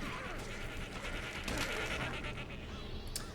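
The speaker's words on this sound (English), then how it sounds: "And kill some sheep." Sheep bleating in the video game Overlord, a few short cries over a continuous busy game soundscape at moderate level, with no talk.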